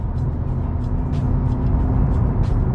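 Mazda RX-8 R3 with its high-revving rotary engine, heard as a steady close mechanical drone with a low hum and faint road noise, fairly loud and even, no talking.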